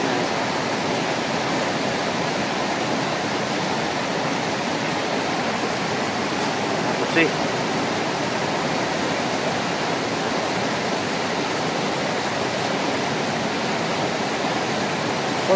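Steady, loud rushing of the Balason River at night, a broadband roar that stays constant throughout with no voices.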